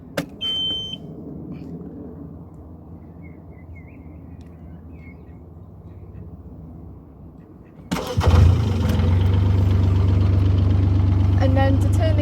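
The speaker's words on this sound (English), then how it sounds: "once the light goes out, you turn it all the way around and the engine will start" A diesel engine with glow plugs cranks and catches after the heat light goes out, going from a quiet, low hum to a sudden loud start and then a steady, close, rumbling idle.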